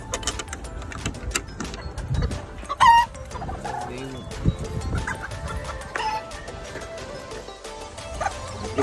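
Chickens cluck and a young rooster calls amid farmyard noise with chicks, with a voice speaking now and then in the background.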